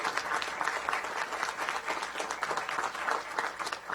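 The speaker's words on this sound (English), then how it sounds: "let's give her a round of applause for what she's done" A council session audience applauds, many hands clapping in a dense, steady wash that holds for the full length at moderate loudness, with no pause.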